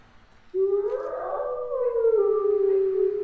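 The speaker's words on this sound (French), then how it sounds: "Bon, les loups, on va se calmer" Wolves howl in a Thai horror video game: a single long, smooth howl rises and holds steady, loud and close, with fainter overlapping howls joining behind it.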